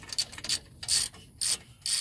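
A ratchet turns a bolt on a Jeep axle shaft in quick repeated bursts of bright clicking, about four short strokes with brief pauses between them, close and crisp.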